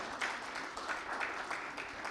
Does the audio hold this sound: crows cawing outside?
no